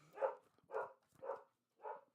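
A dog barks four times in an evenly spaced series of short, muffled woofs, fairly faint and heard alone with no talk.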